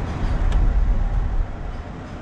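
A 2004 Daewoo window air conditioner runs on low fan, giving a steady, broadband rushing hum that stays continuous from start to finish.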